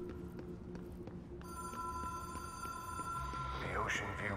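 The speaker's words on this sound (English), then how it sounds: "I hear a phone." A telephone rings inside the video game Control, a steady electronic trill that starts partway through and holds, fairly faint under ambient game sound and someone talking.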